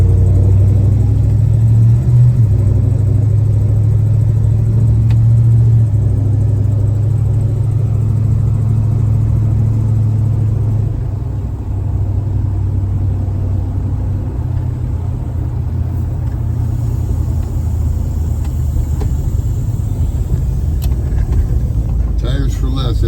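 Steady low engine rumble from a 1973 Dodge Charger with a 340 high output V8, idling loud and close throughout with slight variation, under street talk.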